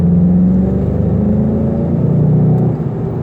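The 2.0-litre engine of a Volkswagen Golf GTI rumbles loudly from inside the cabin, its low drone climbing steadily as the car accelerates to merge into traffic, with no talking.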